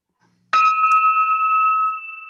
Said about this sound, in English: Is noon, so I'll go ahead and ring the bell.